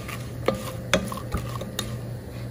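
Ingredients for savory sticky rice with Chinese sausage are stir-fried in a pan to dry off the moisture, with a constant close hiss and a string of scraping, clinking spatula strokes against the metal, about five distinct hits at an uneven pace.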